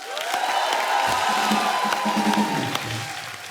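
A television comedy studio audience claps and cheers loudly for a 1983 World Cup cricket legend, a dense roar of applause with whoops, while a sustained tone plays underneath.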